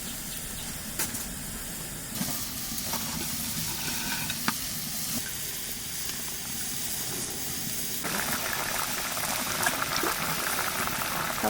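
Water boiling in a pot with potatoes and green chillies, giving a steady bubbling and faint sizzling hiss that runs continuously at moderate volume, with occasional small clinks and no voices.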